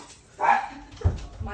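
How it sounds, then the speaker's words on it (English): A pet dog eager to go outside gives a sharp bark and whining yips near a door, close and loud, with a person speaking around the sounds. "my dog keeps telling me that he wants to go out"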